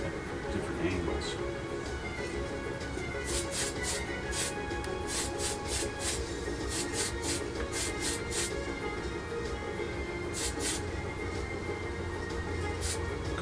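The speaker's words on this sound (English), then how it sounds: "when you're spraying directly at your hand, you're gonna probably spray your hand" A spray can coats a Revell Ford D-100 plastic model kit in short repeated hissing bursts of varying length, heard under someone talking.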